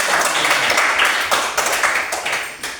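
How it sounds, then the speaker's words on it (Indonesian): Students in a classroom clapping together, a dense burst of hand claps close by with a few sharper accents, steady for a couple of seconds before thinning out. "Kita tepuk tangan sekali lagi."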